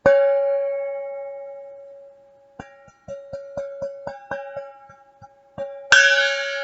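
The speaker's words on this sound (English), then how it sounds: "It has such a baby gong sound too." A small gong rings out with a long shimmering decay, followed by a series of light taps and a final brighter strike.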